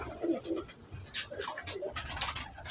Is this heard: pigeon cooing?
yes